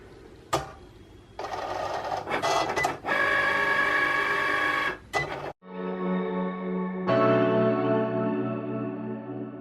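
A cutting machine works through a home-business order with a loud, steady mechanical whir and buzz. The run is broken by short pauses and shifts in pitch, with no talking.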